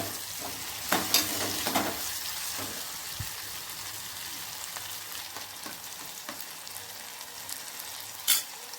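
Tomatoes cook down in a pan for pappu charu, giving a continuous soft sizzle with occasional scraping stirs and taps of a utensil, steady and close with no talking.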